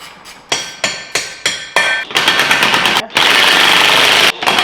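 Bolts on a V8 swapped BMW E36 driven tight with an impact gun: a string of sharp, close rattling bursts that end in a long continuous hammering run, with voices now and then.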